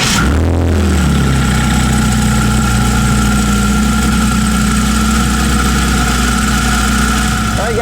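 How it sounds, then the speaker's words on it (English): A BMW M340i with a B58 engine and a Burger Motorsports competition intake idles steadily, a loud close low drone miked in the engine bay with a brief revving swell at the start, then an even hum. "we are out in the M340i just so we can get a nice sound clip of the car"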